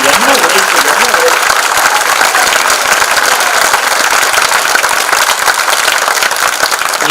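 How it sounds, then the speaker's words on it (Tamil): Loud, continuous clapping from an audience during a Tamil political speech fills the whole stretch, a close, even roar of many hands with no break. "வாங்க, ஒரு நல்ல கைத்தட்டு கொடுங்க சார்"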